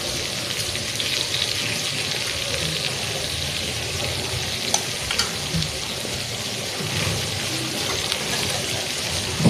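Chopped onions sizzle and fry steadily in a hot pan, a dense, continuous crackle heard close up with a few brief clinks and stirring knocks.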